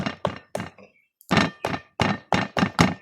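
Someone taps the thorny skin of a young jackfruit, giving about ten close, dull thunks in an uneven rhythm with a short pause partway through, and no talk.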